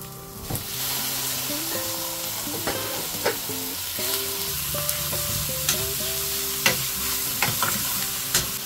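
Partly grilled pork and tenderized offal sizzle steadily in a pan, with stirring scrapes and sharp utensil clacks against the metal breaking through the constant frying hiss.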